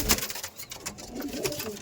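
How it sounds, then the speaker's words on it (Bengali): Domestic Madras pigeons cooing inside their coop in Belgharia, several soft low coos in an uneven, murmuring rhythm, close and fairly quiet over light background noise. "জাস্ট পায়রাগুলো দেখুন খোপের মধ্যে আছে, তাই দেখুন।"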